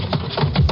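A heavy elevator emergency hatch is shoved open in a radio drama effect, a short rough scraping, creaking wood-like rub, close and alone.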